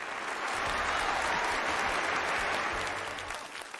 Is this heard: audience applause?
yes